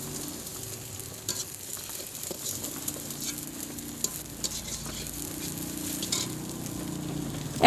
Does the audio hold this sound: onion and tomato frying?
yes